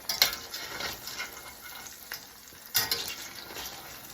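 A smash burger frying in a greasy pan gives a steady, quiet sizzle, with a few scraping spatula clinks as it is worked underneath.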